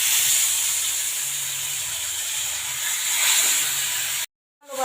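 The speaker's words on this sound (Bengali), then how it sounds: "তেলটা চারপাশে একটু কড়াই চারপাশে মিলিয়ে দিচ্ছি, দিলে মাছটা বসে যাবে না।" Fish frying in hot oil in a wok, a loud continuous hiss and sizzle with no talk, cutting off abruptly near the end.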